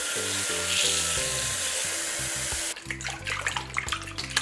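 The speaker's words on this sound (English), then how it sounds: "We rinse the fish for a total of 3 times." Kitchen tap water runs steadily over fish being rinsed, a continuous close hiss that shifts to a choppier splashing partway through, with soft background music underneath.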